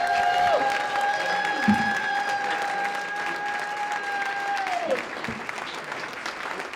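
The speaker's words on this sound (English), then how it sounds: "Let's give one more round of applause for our candidates." An audience at a Texas Attorney General debate gives a steady round of applause for the candidates, a dense, even wash of clapping throughout, with a sustained tone sounding over it for a few seconds.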